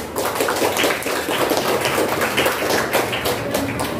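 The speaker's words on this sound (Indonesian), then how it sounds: "Kita beri aplaus dulu untuk teman." A classroom of students clapping for a classmate: dense, steady applause from many hands that fills the room at an even, loud level throughout.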